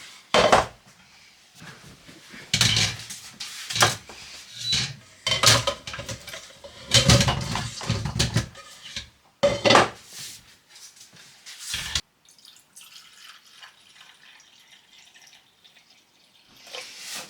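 Pears are tipped out of a metal pan, with irregular clattering knocks, scraping and clunks from the pan and fruit, followed by quieter faint rustling and handling noises.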